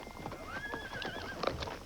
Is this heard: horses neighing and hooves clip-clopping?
yes